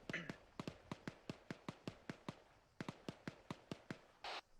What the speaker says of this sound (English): Sounds like AK fire.